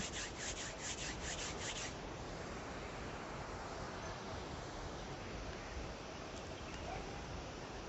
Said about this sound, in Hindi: अपनी दोनों हथेलियों को रगड़कर अपने मुखमंडल पर फेर लेंगे।